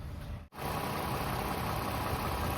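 A warming-up Toyota 3.5-litre V6 idles steadily with a smooth, even hum and faint vibration, heard close and alone apart from a brief dropout near the start.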